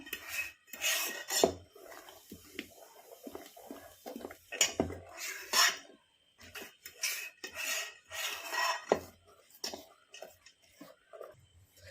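Vellayappam batter stirred with salt using a spoon, giving repeated wet scraping and rubbing strokes against the bowl in uneven bursts with short pauses, close and fairly quiet.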